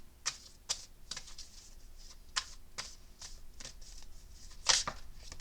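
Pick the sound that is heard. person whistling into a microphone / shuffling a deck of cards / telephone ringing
shuffling a deck of cards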